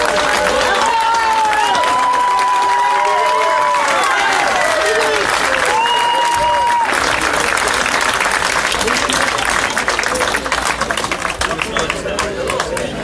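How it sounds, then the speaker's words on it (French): A large festival audience at a closing ceremony applauds the volunteers, loud sustained clapping with cheers and crowd noise throughout, while a voice carries over the applause. "Je vous invite, messieurs, dames, d'ores et déjà à applaudir et à remercier l'ensemble des bénévoles du festival."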